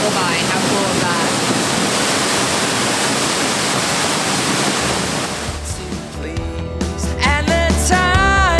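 A jungle waterfall rushes as a loud, dense, broadband roar that fills the first several seconds, then gives way to clattering handling noise and tonal sounds.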